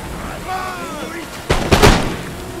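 Musket volley from troops in Empire Total War, a short burst of two sharp, booming shots close together after a brief swell of background game sound.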